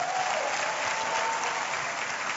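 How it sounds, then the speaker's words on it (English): A church congregation claps together in continuous, dense applause that holds steady and loud throughout, with no voices standing out. "Give the Lord a big clap of hand."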